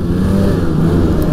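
A Polaris Edge X 800 twin snowmobile engine, about 135 horsepower stock, idling and revving with a loud, steady low rumble close by for about a second.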